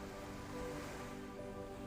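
Ocean waves wash onto a sandy shore with a soft, continuous rushing wash, faint and distant, with no talking.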